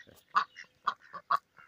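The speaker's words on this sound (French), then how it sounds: "j'ai encore du canard qui est par là" Farm ducks quack in a series of about six to eight separate calls, fairly faint and close, with short silent gaps between them.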